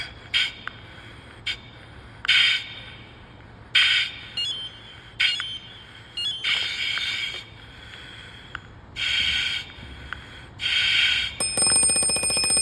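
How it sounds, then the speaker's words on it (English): A self-contained breathing apparatus low-air alarm at a quarter tank: short, shrill electronic beeps in bursts, growing longer and more frequent, ending in a continuous high alarm tone. "Low air alarm sounds at a quarter of a tank."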